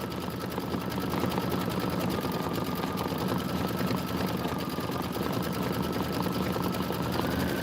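An embroidery sewing machine stitches out a handle design, a loud, steady, fast mechanical whir and rattle running continuously without pause, close to the machine with no talking.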